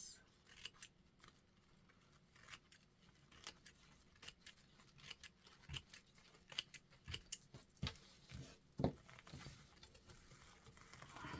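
Scissors snip through excess material on an upcycled craft project in a series of quiet, irregular clicks and cuts, close and faint against a hushed room.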